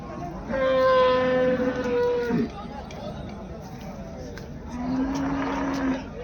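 Buffalo low and moo at a busy cattle market in Erode. One long call stands out near the start and a shorter one follows later, over crowd chatter and someone talking.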